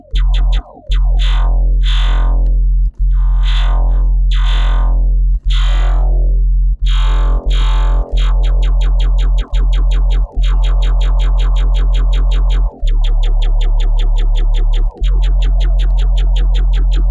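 A droning synthesizer tone from the Phase Plant synth plays rhythmic pulses while a filter sweeps its brightness up and down, growing buzzier and more distorted.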